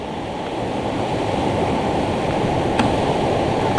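Steady, loud rush of fast-moving floodwater over rice paddies after typhoon rains, a continuous broadband roar with no voices.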